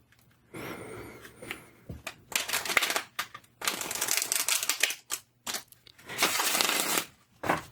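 Crisp bursts of tarot cards being shuffled, several riffling passes separated by brief pauses, close and fairly loud.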